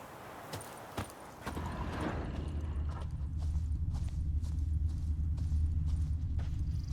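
Geralt's horse Roach trotting in The Witcher 3, a steady close clip-clop of hooves over a low rumbling ambience, following a few sharp isolated knocks at the start.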